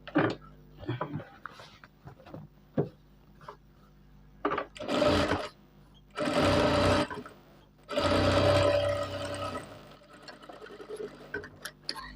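A sewing machine stitches a shirt in a tailoring session, running in several short and longer bursts separated by pauses and faint ticking handling sounds, fairly close and without any talk.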